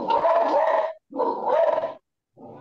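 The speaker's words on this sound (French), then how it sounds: "Il y a un chien qui dérange, on doit chasser ces chiens." A dog barks in long, loud, harmonic bursts close by, three outbursts broken by short silences, with no talking over them.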